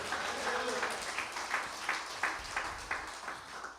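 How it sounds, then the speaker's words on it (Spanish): Church congregation clapping in rhythm during a Spanish-language service, faint and somewhat distant, with steady evenly spaced claps over a low background murmur. "Dale un aplauso al Señor"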